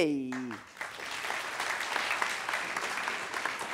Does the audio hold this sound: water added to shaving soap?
no